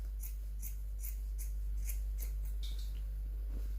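Scissors trim the excess off shirt sleeve fabric in a run of about eight crisp, evenly spaced snips, close and clear over a low steady hum.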